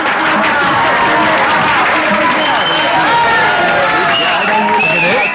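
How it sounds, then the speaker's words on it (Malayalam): A crowd applauds and cheers to welcome Professor Sidhu at the end of a 14-hour snake ritual in a Malayalam film scene, dense sustained clapping and hubbub throughout, with a voice talking over it. "പ്രൊഫസർ സിദ്ധുവിനെ എല്ലാവരും കൈയടിച്ച് സ്വീകരിക്കൂ"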